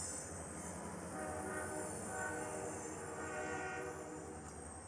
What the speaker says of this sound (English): Possibly the most mournful sound in the world. An American freight train. Triple-headed, 3 diesels.